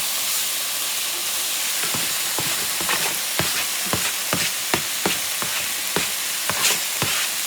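Peppers and onions hiss and sizzle as they are added to a pan of mushrooms and beef tips, with steady frying noise broken by repeated sharp clacks of a utensil stirring the food.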